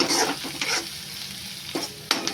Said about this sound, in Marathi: व्यवस्थित मिक्स झाली ना, त्याच्यामध्ये आपण भाजी टाकूया ती केलेली आहे ती